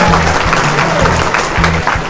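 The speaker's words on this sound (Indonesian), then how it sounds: "Tepuk tangan semuanya." Loud, close audience applause at a school opening ceremony for SMP Negeri 1 Ngadirejo's Gelar Karya with a balloon release, brisk and continuous over a faint low hum.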